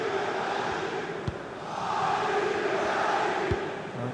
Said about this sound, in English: Passionate crowd here at the Parc de France.